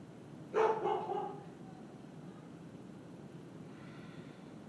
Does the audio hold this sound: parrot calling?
no